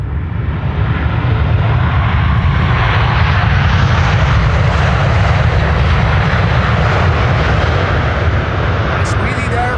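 An airliner landing at Amsterdam Schiphol Airport, a loud continuous engine roar with rushing wind noise holding steady throughout; a voice seems mixed in beneath the engines.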